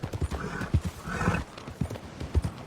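Horse hooves clip-clop in a steady rhythmic gait in the video game Red Dead Redemption 2, close and clear over a light ambient game backdrop.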